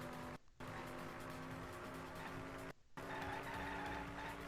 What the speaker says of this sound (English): Oh, now I can really make those sounds because we're actually in the car.